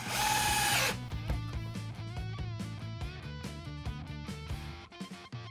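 A power drill drives screws into a wooden children's bench, opening with a loud whirring burst, then a close, rhythmic stuttering grind as the screw bites and tightens into the wood.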